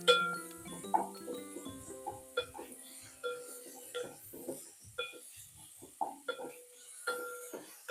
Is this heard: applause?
no